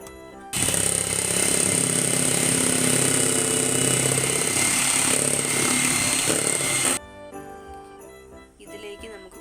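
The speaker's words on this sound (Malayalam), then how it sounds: "ഒരു 1/4 ടേബിൾ സ്പൂൺ സൺഫ്ലവർ ഓയിലും കൂടെ ചേർത്ത് ബീറ്റ് ചെയ്തെടുക്കാം." Electric hand mixer beating plum cake batter with a little sunflower oil, a loud steady whirring drone running for about six seconds before cutting off, followed by faint clinks.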